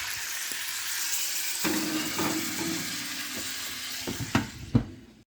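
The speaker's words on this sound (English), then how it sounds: "Next, I'm going to be putting in the rest of a butter stick to melt on both sides." Steak frying in melted butter gives a steady, close sizzle. A few utensil clinks and pan knocks come near the end before it cuts off.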